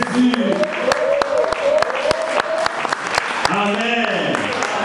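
Church congregation applauding and cheering in praise of Jesus, dense sustained clapping mixed with shouts and voices, with a sharp percussive hit recurring throughout.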